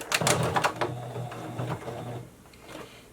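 A sewing machine runs a short burst while stitching a fabric face mask, a quick mechanical whirr close at hand that fades into a quiet room hum.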